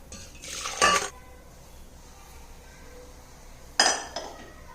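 Cooked Malabar spinach being moved into a metal vessel, with two separate bursts of metallic clinking and scraping of utensil against pot, quiet handling noise between them.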